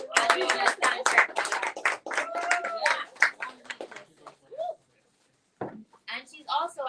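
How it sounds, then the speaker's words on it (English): Audience applause at the Optima Awards 2023 ceremony: a dense patter of hands for about four seconds, mixed with a talking voice, then a pause and brief further voices. "So another round of applause for some really good work."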